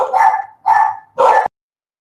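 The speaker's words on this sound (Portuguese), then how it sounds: "Meus cachorros não estão deixando. Toda hora toca a campainha aqui e aí eles ficam loucos." Dogs bark three times in quick succession indoors, loud and close, set off by a doorbell ringing at home; no voices are heard.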